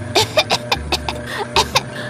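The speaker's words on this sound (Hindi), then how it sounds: "पूरी तरह धूल से सनकर और जोर जोर से खांसने लगती हैं" A burst of repeated coughing from a woman covered in dust, about ten sharp hacking coughs in quick, uneven succession, close and fairly loud.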